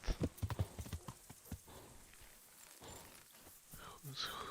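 Horse hooves clip-clopping in Kingdom Come: Deliverance, a quick run of close, distinct steps that slows and spaces out, followed by softer shuffling and faint rustle at the end.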